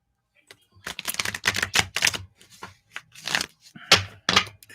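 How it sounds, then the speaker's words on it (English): A deck of playing cards is shuffled up close in several quick riffling bursts separated by short pauses, crisp and clear against a quiet room. "All right, Durwood, shuffling up for you."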